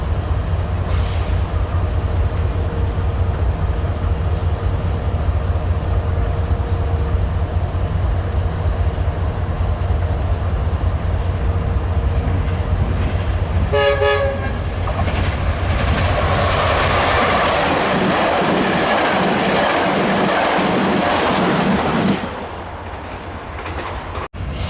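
Metrolink passenger train 1665 bound for Union Station rolls past a trackside spot at Commerce, its horn sounding briefly before a loud rush of wheels and clickety-clack fills the air, then fading as it moves away.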